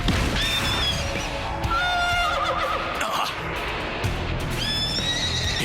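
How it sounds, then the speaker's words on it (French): A horse in an animated battle scene neighs and whinnies repeatedly, shrill calls rising over a dense rumbling background with thuds and crashes. "Il s'en prend vraiment à mon cheval?"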